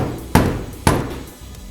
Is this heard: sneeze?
no